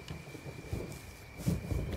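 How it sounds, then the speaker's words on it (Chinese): Low thunder rumbles under a faint hiss of rain in a brief outdoor scene, a soft, distant roll that swells slightly near the middle before settling back into the steady patter. "快下雨了"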